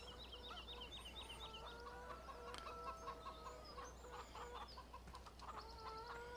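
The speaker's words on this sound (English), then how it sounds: "So we start out with our chickens here" Chickens cluck repeatedly on a farm in the video game Farming Simulator 17, a busy overlapping chorus of short clucks and squawks over a steady low background hum, with no talking.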